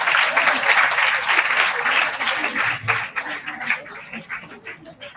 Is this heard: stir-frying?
no